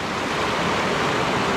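A river flows beside a rest stop on a Great Divide mountain bike route, its water rushing in a loud, steady, unbroken wash with no voices.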